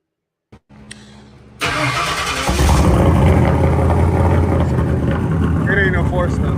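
A 351 Windsor stroker V8 car engine, not a four-cylinder, starts up and runs loud and close with a steady rumbling revving roar, after a few brief clicks, with a voice talking over it.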